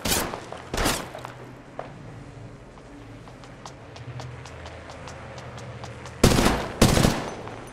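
Gunfire in Apex Legends Mobile: two loud, sharp shots in quick succession, a long quiet stretch with faint ticking, then another close pair of sharp blasts near the end.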